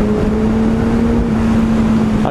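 A Suzuki Bandit 650N motorcycle runs on the road, its engine a steady droning hum at a constant pitch, mixed with wind rush from riding.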